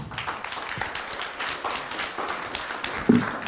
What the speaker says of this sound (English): We can maybe make a round of applause.